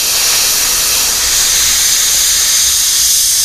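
Spray paint hisses continuously through a stencil at a holiday spray session, a loud, steady broadband spray held close for the whole stretch with no pauses and no voices.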